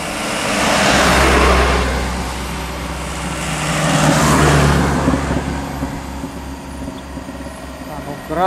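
A medium-sized tour bus on a road in central Sumatra between Pagaralam and Palembang, rumbling past with a loud low engine drone that swells and fades, then swells again, alongside steady broadband road noise.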